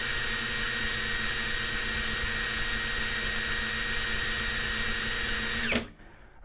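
A DeWalt or Ingco cordless impact drill runs steadily at top speed with a loud, even high-pitched whine, then abruptly cuts off near the end and leaves near silence.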